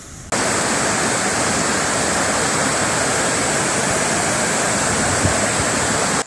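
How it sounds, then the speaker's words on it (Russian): Floodwater pours over the banks of Lake Molokovo in Romanovsky district. It makes a loud, continuous roaring rush that starts abruptly and holds steady throughout, with no speech. "Вода вышла из берегов."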